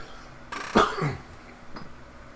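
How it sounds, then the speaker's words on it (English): A person clears their throat and coughs a few times at close range, with brief quiet gaps between the bursts. "going to cough"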